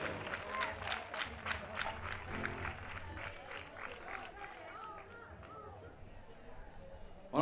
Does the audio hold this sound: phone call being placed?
no